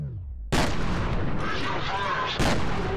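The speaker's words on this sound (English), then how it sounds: "so let's take out the shotgun" Loud shotgun blasts in the first-person shooter game FEAR, with a heavy boom at about half a second and another near the end, separated by a dense, rumbling gunfire and combat din.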